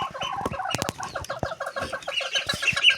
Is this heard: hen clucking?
yes